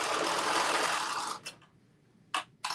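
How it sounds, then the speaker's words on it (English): A sewing machine stitches a hem along the back or front of a Carmen top, running steadily for about a second and a half, then stopping, followed by a few short mechanical bursts. "I'm basically doing a hem around the back or the front"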